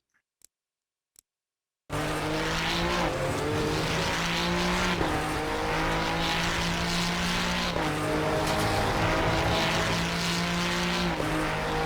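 A Ferrari 296 GT3 laps Barcelona in Assetto Corsa Competizione. After about two seconds of near silence, a loud, continuous engine roar begins, rising and dropping in pitch through gear changes, with faint tire noise.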